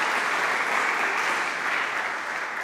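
Even, sustained applause from a conference audience at a climate mobility forum as panelists walk up to the stage, a dense wash of clapping that tapers slightly.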